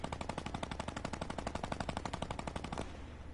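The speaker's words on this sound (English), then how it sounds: "somebody shoot a minigun" A minigun fires in Fortnite, a long unbroken stream of rapid, evenly spaced shots for nearly three seconds before cutting off sharply.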